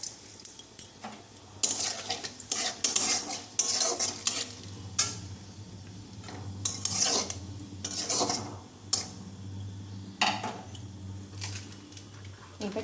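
Whole spices tempering in hot oil in a pan, bursts of loud sizzling broken by a spoon scraping and stirring against the metal in irregular strokes, close up, without voices.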